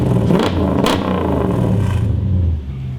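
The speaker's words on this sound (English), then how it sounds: "now that the V8 is running on all 8 cylinders, Dyno Day is back in business" A 1UZ V8 engine swapped into a mini-truck runs loud and close on a dyno, holding a steady, thick roar with two quick rev blips before easing off near the end.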